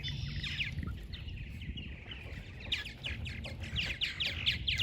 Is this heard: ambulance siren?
no